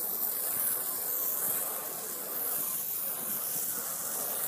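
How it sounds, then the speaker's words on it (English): Water hisses steadily from a spray nozzle onto rooftop solar panels, a broad, even rushing sound that holds nearly unchanged for several seconds with no voices. "First, spray these babies down, then we'll soap them up"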